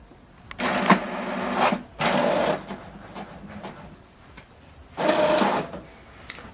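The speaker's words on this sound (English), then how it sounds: "Document is printing." An HP Deskjet 2820e inkjet printer printing a document, with bursts of mechanical whirring and carriage passes separated by short pauses and soft clicks, close up and without talk.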